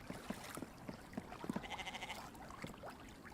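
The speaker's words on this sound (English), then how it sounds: "Wait, that was a goat." A goat bleats in the video game The Infected, a short wavering cry rising over scattered footsteps and game sounds, moderately loud and close, with no talk.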